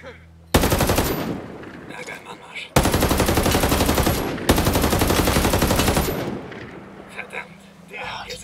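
Three long, loud bursts of video game machine gun fire, each rattling for about two seconds, with brief quieter gaps and faint background noise between.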